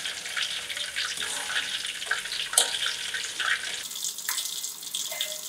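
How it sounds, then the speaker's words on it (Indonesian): Sausages frying in hot oil over medium heat while being stirred, a steady hissing sizzle with crackly bursts and a brief sharp clink midway, continuous and fairly close. "Setelah minyak panas, masukkan sosis. Goreng dengan api sedang sambil sering-sering diaduk"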